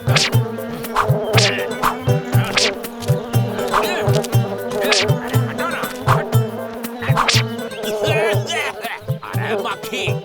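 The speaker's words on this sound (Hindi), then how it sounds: "अरे मक्खी, हमारा दूध से दूर रहो।" A housefly buzzes persistently around a pot of milk in a children's cartoon, a thin insect drone repeating over a steady rhythmic background.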